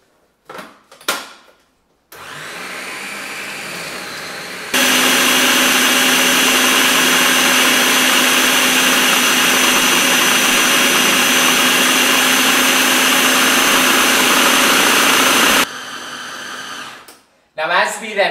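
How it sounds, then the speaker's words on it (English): Food processor blitzing apples with a crisp topping, starting with a lower whir, jumping to a loud, steady high-pitched motor roar for about eleven seconds, then dropping back and stopping, with brief handling noise at either end. "That's why I'm putting it into a food processor."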